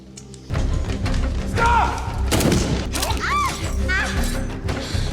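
Gunfire in a film's police shootout at a hideout, with loud thuds and crashes in a busy, chaotic mix, broken by sharp whistling and squealing effects, under voices throughout.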